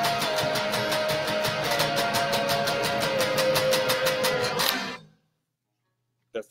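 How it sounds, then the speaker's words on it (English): Guitar strumming the final chord of a song cover in quick, even repeated strokes for about five seconds, then left to ring out and fade into silence, close and alone. "That's the final chord."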